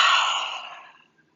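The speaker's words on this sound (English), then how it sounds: "exhale through our mouth each time" A big exhale pushed out through the mouth during a yoga breathing exercise, a single loud, airy breath close to the microphone that fades to silence over about a second.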